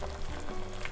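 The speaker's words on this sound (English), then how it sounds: "we're gonna just add the leek or green onion to it and then mix it" Leek or green onion stirred into a spicy Korean braised pork short rib sauce, a brief steady sizzle and bubbling with light stirring, close and continuous.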